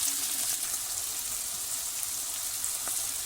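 Onions and peppers sauté in a pan with a steady, soft, hissing sizzle, continuous and fairly quiet throughout, with no voices over it.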